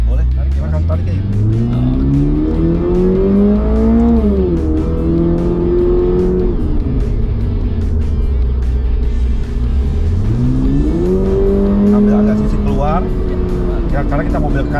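A Toyota GR car accelerating hard on a smooth asphalt track, the engine note climbing loudly through the revs, easing, then rising again, with people talking over it inside the cabin.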